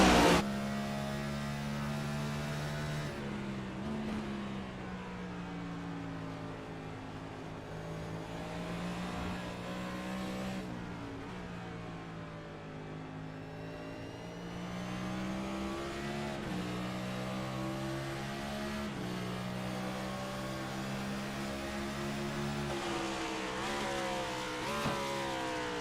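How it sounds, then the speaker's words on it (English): Race car in a racing video game at Watkins Glen, engine droning steadily with rising and falling pitch as it winds down into a turn and revs back up, continuous and fairly close. "Hear that car wind down into turn 1 as they work up their way to turn 2 and up through the S's."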